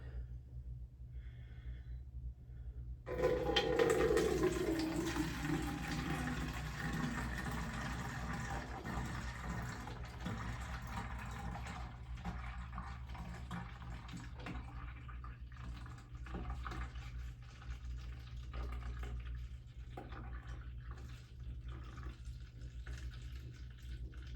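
Liquid from a sprayer bottle poured slowly from one container into a smaller one: a close trickling and gurgling flow begins after a few seconds of quiet hum, then continues steadily as a soft stream.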